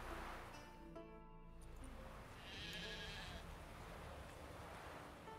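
A sheep bleats in The Witcher 3, with a wavering bleat near the start that tapers off, followed by a quieter bleating sound a moment later over soft ambient game noise.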